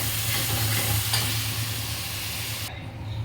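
Spice paste of turmeric, cumin and chili sizzling steadily in a pan for a katla fish curry, a continuous close frying hiss with faint stirring, cutting off abruptly near the end.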